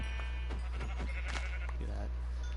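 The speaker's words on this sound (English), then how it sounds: "I don't recall there being 3 sheep near my house." Minecraft sheep give a few short bleats over a steady low hum, faint and close, with someone talking over them.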